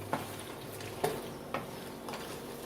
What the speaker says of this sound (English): You want to stir it till the Velveeta is melted.